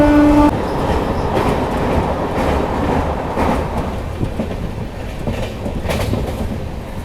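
LHB Himachal Express train rolling along the track near Delhi, a continuous loud rumble with rhythmic clickety-clack wheel beats and a brief tonal horn-like hum at the start.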